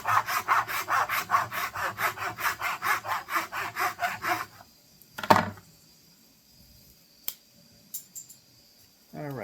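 A hand saw cuts wood in a miter box with about twenty quick, even back-and-forth strokes, close and loud, then stops, followed by a few knocks and clatters of wood being handled.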